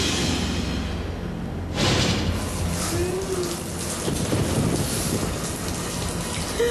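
Steady, dense rain pours at night, a loud continuous hiss with a brief surge partway through and no voices.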